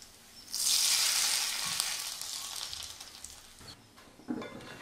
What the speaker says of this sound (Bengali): পেঁয়াজ রসুনগুলো এমন লাল করে ভেজে নিয়ে মাংসের মধ্যে ঢেলে দিচ্ছি